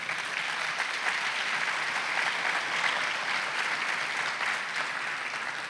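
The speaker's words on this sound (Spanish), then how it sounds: "Un aplauso fuerte a nuestro Dios." Steady, dense applause from a church congregation fills the room throughout, an even wash of many hands clapping at a consistent level with no voices on top.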